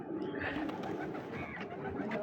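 Domestic pigeons coo continuously at a pigeon farm in Puranpara, Narsingdi, including large Sirazi and red Bombai breeds; dense overlapping coos and soft wing and bird noise fill the space, close and steady throughout.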